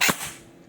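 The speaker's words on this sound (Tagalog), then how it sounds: "Putok natin ng semi." An airsoft rifle fitted with a Nebula ETU fires one semi-auto shot, a sharp close crack that fades quickly and stands alone.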